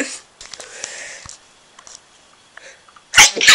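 A person sneezes loudly and close at hand in a room, a sharp burst after a stretch of quiet shuffling and faint handling noises.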